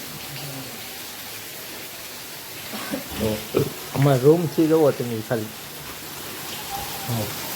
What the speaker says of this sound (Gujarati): હું તમને બતાવી રહ્યું કેટલો વરસાદ આવે છે